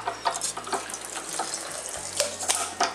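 Water from a freshly cracked mature coconut trickles and splashes steadily into a container nearby, a soft continuous pouring with small irregular bursts and no talking.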